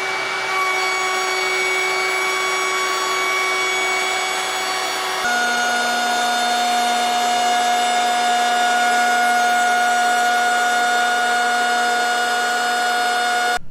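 A large 7' by 18' router sled table cuts wood with an inch-and-a-half cutter at half-inch depth, spinning near 12,000 RPM: a loud, steady, high-pitched machine whine that drops in pitch partway through and runs without pause.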